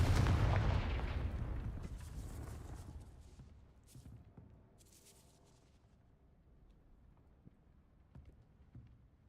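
Confringo explosive spell cast in the Hogwarts Legacy video game: a loud, booming blast at the start that rumbles and fades over several seconds into quiet ambience, with a few faint clicks and thumps afterward.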